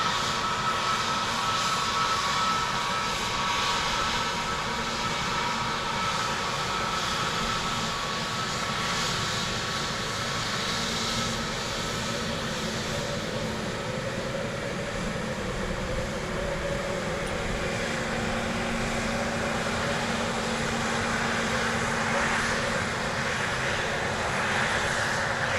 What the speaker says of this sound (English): Aer Lingus 321 Neo from Heathrow.